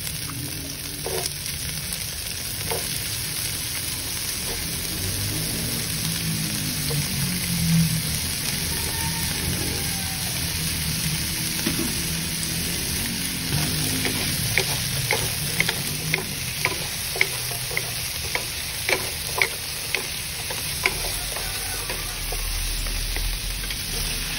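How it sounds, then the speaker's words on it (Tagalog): Sausages frying in a pan with potatoes and carrots tossed in, giving a steady broadband sizzle with occasional stirring scrapes and a run of sharper clicks and pops toward the end, close and continuous with no talking. "now, we're gonna add the potatoes and carrots"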